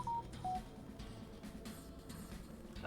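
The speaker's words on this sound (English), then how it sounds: "my phone's notification sounds" A pair of short electronic beeps from a phone's notification sounds rings out at the start, brief and clear, then fades into low room hum and quiet background.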